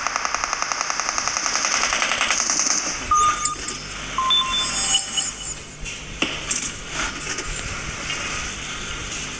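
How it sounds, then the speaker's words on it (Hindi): Gunfire in a PUBG match: a rapid burst of automatic shots opens, then scattered single shots and short bursts crack sporadically at moderate distance, mixed with game beeps and interface tones. "वहाँ पे फायरिंग है"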